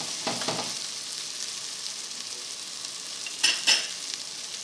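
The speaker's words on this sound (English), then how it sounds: "as you're browning your craisins, they're going to plump up a little bit because of the oil" Craisins brown in oil in a pan, giving a soft, steady sizzle with a few brief stirring scrapes, heard up close and quiet with no talking.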